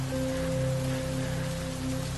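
Steady rain keeps up an unbroken, even wash of sound with a constant low hum beneath it and no voices.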